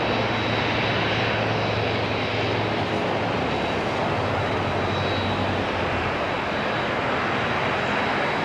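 An ATR turboprop airliner at Auckland International Airport gives a steady, loud, broadband engine roar that holds evenly throughout, with a faint high whine running above it and no talking.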